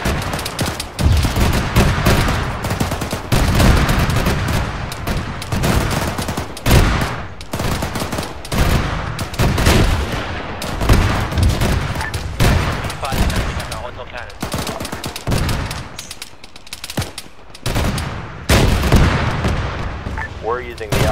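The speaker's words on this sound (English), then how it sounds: "That is our auto cannon firing." Rapid bursts of automatic cannon fire in the video game Arma 3 boom repeatedly in heavy volleys, loud and close, with brief lulls between salvos.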